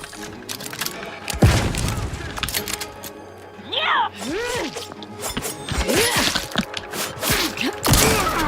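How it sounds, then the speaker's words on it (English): Combat in the video game The Outer Worlds 2, with a heavy grenade boom followed by bursts of gunfire, thuds and impacts, while character voices speak over the chaotic fight. "Oh, grenade!"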